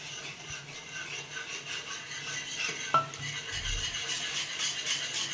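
A pot of boiling green curry being stirred, with a continuous bubbling, scraping texture, a faint clink of a utensil against the pan midway, and a low thump near the end.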